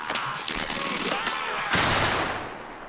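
Gunfire in the video game Warframe, a dense rattle of rapid shots and bursts layered with game effects, loud and continuous, with a heavier blast partway through.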